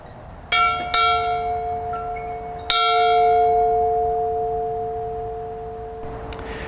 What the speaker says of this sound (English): If you had a fire or an in-attack here at the house, you'd ring the bell.